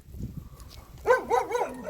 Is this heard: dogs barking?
yes